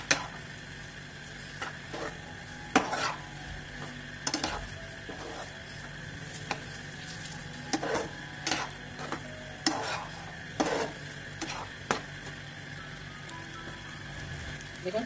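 Pasta stirred in a pan, heard as irregular scrapes and clinks of the utensil against the pan over a soft sizzle, close by, with no speech.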